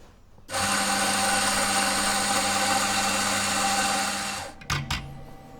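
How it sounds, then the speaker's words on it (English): An espresso machine pulling a shot for specialty coffee runs with a loud, steady pump drone and hiss for about four seconds, then cuts off with a couple of short clunks and a fading tail. "I'm going to start pulling a shot"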